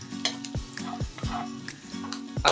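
Garlic frying in a pan for pata humba, a moderate sizzle broken by repeated metallic scrapes and clinks of stirring at an uneven rhythm, close by.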